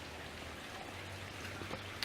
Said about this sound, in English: We've just been getting waves and waves and waves of rain.